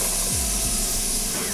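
Jalapeno peppers and onions sizzling in a hot pan, a loud, steady hiss throughout with a couple of faint low knocks.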